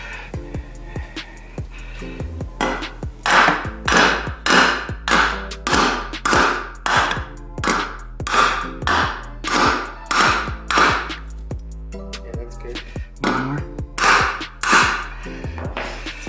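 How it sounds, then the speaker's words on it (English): Rapid series of sharp metallic hammer strikes riveting hub cap clips onto a Volkswagen wheel rim, sometimes single and sometimes in quick bursts, ringing loudly up close with brief pauses between groups. "Rivet with the hammer, it mushrooms it out on the outside of that hole"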